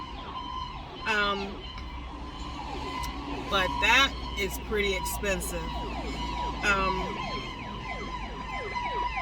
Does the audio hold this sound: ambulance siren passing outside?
yes